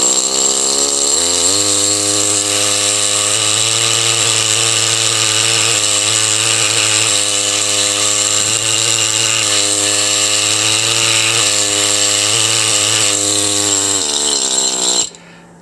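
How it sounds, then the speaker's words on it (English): A high-pitched power tool chisels rock around a fossil Eubiodectes fish, its steady buzzing whine running loud and continuous for about fifteen seconds before cutting off abruptly. "I think I'll do some chiseling right into there."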